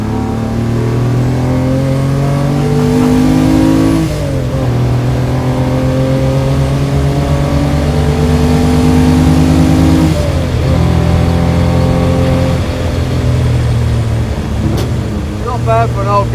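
A 1960 Ferrari 250 GT SWB Berlinetta Competizione engine revs hard and climbs through the gears, loud and close, with a brief dip and surge as it shifts, people talking over it.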